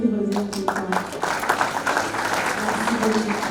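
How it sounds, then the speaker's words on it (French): An audience at an awards ceremony honouring trades applauds returning participants, a moderate patter of clapping mixed with a voice speaking over it, along with some tonal background sound. "Est-ce qu'on peut applaudir pour ceux qui reviennent tout le temps?"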